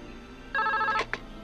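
A telephone rings once in a short electronic burst, then gives a brief second chirp, clear against a quiet room.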